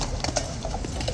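Hooves of a cavalry horse at Horse Guards clip-clop on the yard in a short irregular run of sharp, close knocks over a light outdoor crowd murmur.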